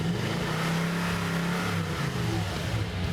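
Stationary truck with its stock exhaust, before any upgrade, revving with a steady droning engine tone that rises and falls slightly, heard close and continuous with no talk.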